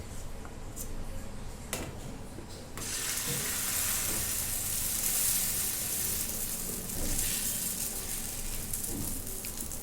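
Uttapam batter sizzling on an oiled tawa, a steady loud frying hiss that swells after a few seconds and holds, with faint kitchen clatter and no talk.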